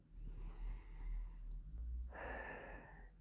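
Slow, soft breaths drawn in and released during a guided emotional-release practice, quiet and close, ending with one longer, stronger exhale.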